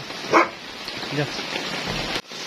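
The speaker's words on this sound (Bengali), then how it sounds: "অনেক বৃষ্টি, বৃষ্টিতে আজকে দিলাম একটি ডগকে, নিয়ে গেল, খুব বৃষ্টি হচ্ছে" Heavy rain pours down as a constant dense hiss, with one short dog bark near the start and faint voices underneath.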